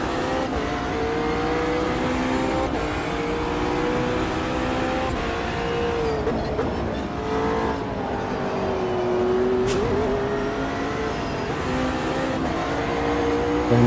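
A race car engine in the Project Motor Racing video game holds a loud, steady howl, dips as it downshifts and climbs again while sweeping through a corner, with no talk.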